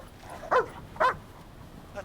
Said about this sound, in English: That dog has a temper to match yours.